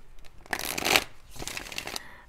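Tarot cards being shuffled close by: brisk riffling bursts that swell, ease off, and return, with no talking.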